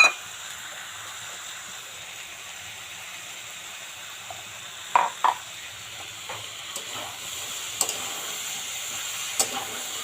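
Shrimp stirred in a cooking pan with sweet potato for a Malabar spinach dish: a steady soft sizzle and hiss runs throughout, broken by a few faint scrapes and clinks of the utensil, with no voices.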